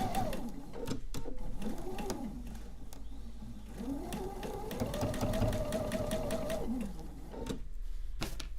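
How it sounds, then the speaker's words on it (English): A sewing machine stitching quilt pieces, running in a steady close whirring hum with brief starts and stops and a few light clicks, alone without talk. "I'm just going to line up here, sew up to my pin."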